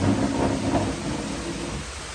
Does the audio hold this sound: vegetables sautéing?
no